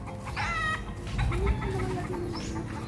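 Chickens cluck close by, with a few sharp calls over a steady low outdoor rumble and background murmur.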